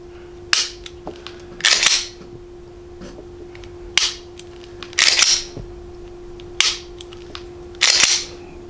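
A Glock 19 Gen5 trigger is dry-fired in pairs of sharp, close mechanical clicks, with short pauses between the pairs and a steady faint hum underneath.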